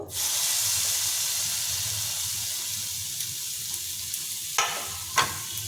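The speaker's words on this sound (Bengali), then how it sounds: "এইবার আমি ওটা ফ্রাইং প্যানের ওপর দিয়ে দেব" Mashed chhana for aamsatta sandesh lands in a hot frying pan and cooks with a loud, steady sizzle that fades gradually, with a few scraping stirs near the end.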